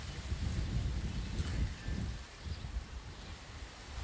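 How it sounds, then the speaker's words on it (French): Wind gusts buffet the microphone outdoors in Bali, a low rumbling rush that swells and eases steadily throughout, close and fairly loud, with no talking. "on est à l'extérieur et il y a un peu de vent autour de nous"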